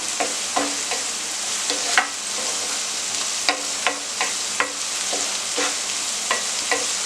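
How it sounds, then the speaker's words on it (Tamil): Small green chillies sautéing in a pan for cauliflower Manchurian, a steady close sizzle broken by repeated sharp scrapes and clicks of a spatula stirring, with no talking. "ஒரு 3 பச்சை மிளகாய் சின்னது, அதையும் வந்து நம்ம நல்லா கூட வதக்கிக்கலாம்"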